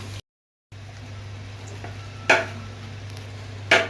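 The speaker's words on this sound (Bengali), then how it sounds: "মাংস দিয়ে দিয়েছি নাড়িয়ে দিয়েছি" Goat meat frying in oil with browned onions, bay leaf and spices is stirred in a pot, a soft low sizzle with a couple of louder scraping stirs of a spoon against the pan.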